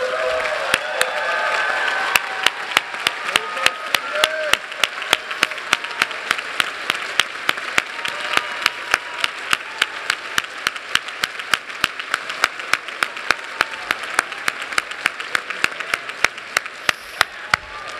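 An audience at a college commencement ceremony applauds graduates with dense, sustained clapping from a large crowd that keeps an even loudness for many seconds.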